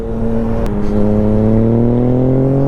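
A motorcycle with a straight-pipe exhaust drones loudly and close, its engine pitch rising steadily as it revs up over a couple of seconds.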